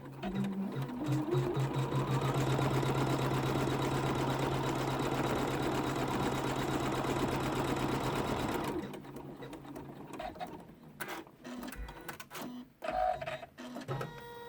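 An embroidery machine stitches a curved zip pouch in a fast, loud mechanical rattle that runs for most of the stretch, then stops, leaving scattered handling clicks and knocks.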